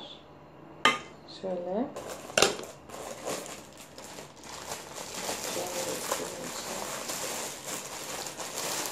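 A metal pot and lid clank and scrape sharply a few times, followed by steady rattling and rustling; a voice speaks briefly.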